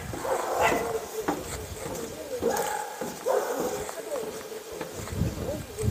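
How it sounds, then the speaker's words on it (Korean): A dog barks intermittently in a countryside house garden beside a valley, heard somewhat at a distance while someone talks over it. "저쪽은 강아지가 짖으니까 제가 따로 말은 안 할게요"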